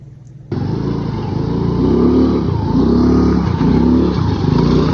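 An off-road motorcycle stuck in deep mud revs hard after a quiet start, its engine rising and falling in repeated loud, strained surges close by.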